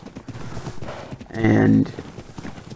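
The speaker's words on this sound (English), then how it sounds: "you can just walk up to a horse" Horse hooves clip-clop in the game Ark: Ragnarok, a short run of footfalls in the middle while someone talks over them.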